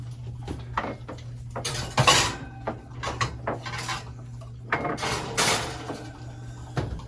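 A baking dish of stuffed shrimp is slid into an oven with clinking metal and glass, a rattling oven rack and a door thud, heard close over a steady low kitchen hum in irregular bursts without speech.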